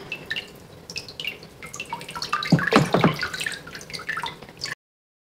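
Watery paper pulp slurry is poured slowly over fabric for handmade paper, giving a steady trickle of drips with a denser splashing burst in the middle before it stops.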